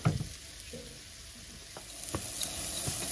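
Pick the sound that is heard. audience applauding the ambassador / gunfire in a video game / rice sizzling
rice sizzling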